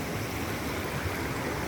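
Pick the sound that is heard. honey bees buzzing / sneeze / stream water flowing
stream water flowing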